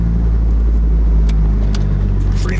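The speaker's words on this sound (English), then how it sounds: "Mikey's car is actually coming back from the dyno" A turbocharged Mazda RX7 rumbles close by as it arrives at a garage, a loud, steady low engine drone with a faint higher whine near the end.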